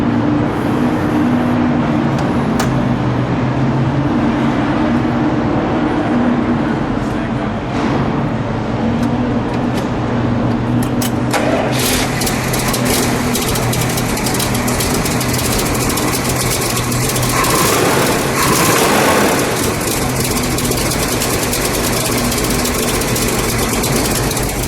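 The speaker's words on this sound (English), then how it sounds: "Let me hear that idle." Car engine idling, a loud steady low rumble that holds for the whole stretch with a slight shift in tone partway through, with no talk over it.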